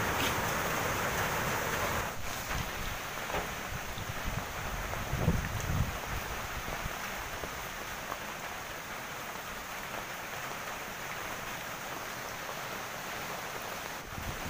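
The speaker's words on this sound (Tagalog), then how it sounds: "Medyo nakakatakot yung hangin." Steady, roaring typhoon wind (Typhoon Ulysses, near Santa Cruz and Calauan, Philippines) buffets the microphone throughout, with a constant broadband rush and patter like rain mixed in, and no one speaking.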